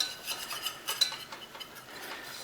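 A whisk stirring flour in a pan for a tinned salmon dish, quick light metallic scrapes and taps in an uneven rhythm, close and fairly quiet.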